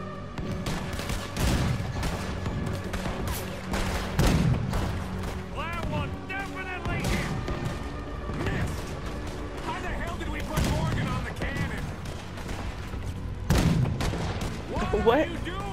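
Booming cannon shots go off repeatedly amid Red Dead Redemption 2 battle noise, with people talking excitedly over the top.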